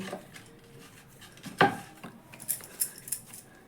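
Knife or scraper cutting and portioning rested dough into large balls for dhaba-style crispy onion paratha, heard as a sharp clink near the middle followed by several softer scraping taps on a work surface, with no talk.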